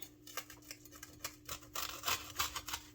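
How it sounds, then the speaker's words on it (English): A crispy carnivore pizza crust is cut close by, giving a quiet series of crackling, crunchy snips and cracks with no talk. "You should be able to hear kind of how crispy it is when I cut."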